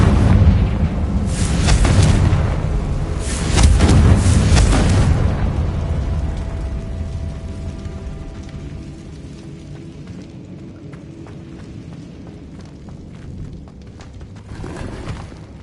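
A Confringo blasting spell explodes in Hogwarts Legacy: loud booming bursts open the sound, then a long rumbling decay, with another smaller burst near the end.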